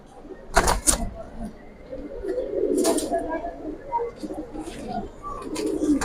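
Jabra-winged Giribaz pigeons coo softly nearby in a low, rolling murmur, broken by a few sharp bursts of rustling or flapping.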